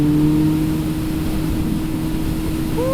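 A 2008 Kawasaki Z1000 motorcycle engine drones loudly and steadily on a test ride, with a low rumble and a rising whine near the end as it revs, no voices over it.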